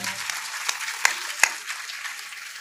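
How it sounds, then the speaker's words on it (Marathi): Audience at a Bhagavat katha on the Narasimha avatar, applauding together, a steady wash of clapping with a few sharper individual claps standing out over roughly two and a half seconds. "एकदा जोरदार टाळी वाजवा सर्वांनी."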